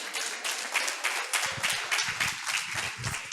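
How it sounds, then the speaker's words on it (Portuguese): A small crowd in a church courtyard claps for a dancer, a quick, fairly faint patter of hands with a few lower thumps in the second half, and no clear talk. "A salva de palmas aí para Jesus"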